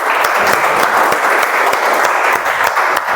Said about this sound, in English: let's give a huge round of applause for all the participants today